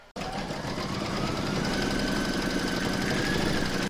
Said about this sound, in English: Put your hoop back into your machine and stitch round number 5 to secure it.